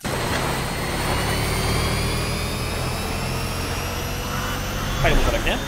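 A motorbike engine in the video game Death Stranding drones steadily at close range, with someone talking over it throughout.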